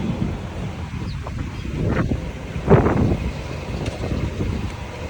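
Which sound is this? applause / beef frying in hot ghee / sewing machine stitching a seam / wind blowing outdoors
wind blowing outdoors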